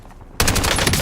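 A sudden burst of rapid automatic machine gun fire in the video game Battlefield 6, starting abruptly after a quiet moment and staying loud and continuous.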